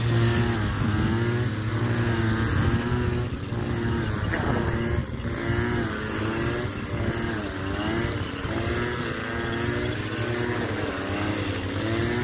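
A Maruyama NE500 brush cutter's small engine drones loudly and steadily up close while cutting thick grassy rice stalks, its pitch wavering slightly as it runs without pause.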